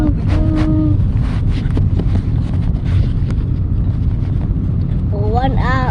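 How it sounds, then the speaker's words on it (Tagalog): Steady, loud wind roaring across the microphone throughout, in Pangasinan, Philippines, with people talking over it and some brief whistling tones near the end. "Lakas ng hangin."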